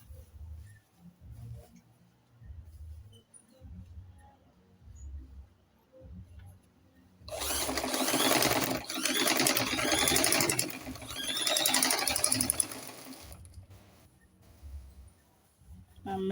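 A sewing machine stitches a skirt seam in one steady whirring run of about six seconds, with quiet handling and a low rhythmic hum before and after.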